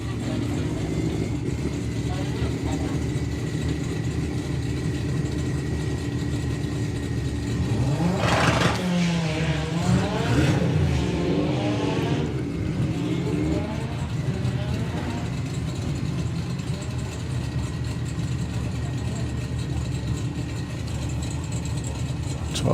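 A VW Golf drag racing down the strip at Santa Pod during a VWDRC Sportsman Nationals qualifier, engine revving hard and rising in pitch as it pulls away, loud against a steady background roar with a commentator talking over it.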